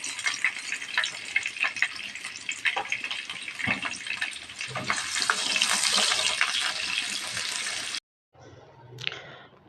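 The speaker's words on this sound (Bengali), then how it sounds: "তেলের মধ্যে দিয়ে দিলাম পেঁয়াজ" Onions sizzling in hot oil in a home kitchen pan, a busy crackling fry with scattered stirring clatter, briefly cut off near the end before fainter sizzling returns.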